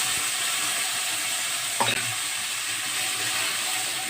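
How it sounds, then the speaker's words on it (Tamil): Shallots are dropped into hot oil with fennel seeds for a tomato curry, bringing a steady close sizzle with a brief louder burst of frying and stirring partway through and no talking. "இதில் சின்ன உள்ளி போட்டுக்கோங்க."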